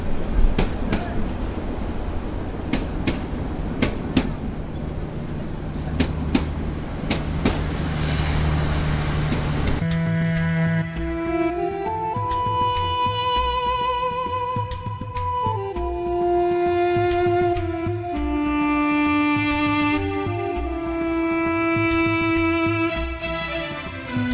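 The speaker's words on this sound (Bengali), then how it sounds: "তো আমাদের ট্রেনটা চলে আসলো আর এখান থেকে আমরা চলে যাব হচ্ছে লালমনিরহাটে" A passenger train on the Dinajpur to Lalmonirhat line in Bangladesh rolls in with rumbling wheels and rhythmic clicks, then its horn sounds in long, loud sustained tones that shift pitch, heard up close at a station.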